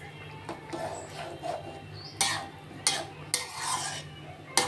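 A spoon stirs a thin fish curry with drumsticks in a pot, making soft scraping swirls and a few sharp clinks against the metal, faint and close over a low steady hum.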